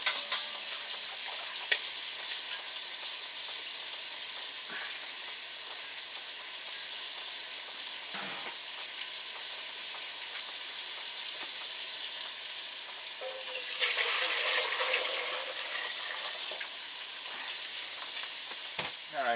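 Bacon sizzles and crackles steadily in a pan as it crisps, a dense continuous fry broken by a few clatters and a brief louder burst of spitting near the end, with no one speaking.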